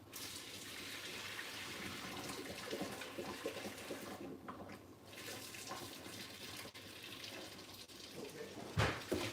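Water from a pot of cooked pasta pours steadily into a kitchen sink, a continuous close splashing rush with brief dips before a final louder spill.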